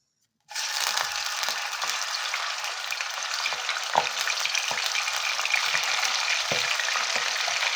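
Chicken pieces drop into hot oil in a pan and burst into a loud, continuous sizzle with crackling spatters that run on steadily.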